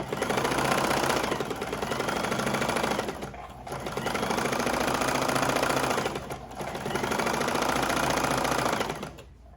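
A sewing machine runs in steady, rapid stitching bursts, pausing briefly twice before resuming its loud mechanical chatter.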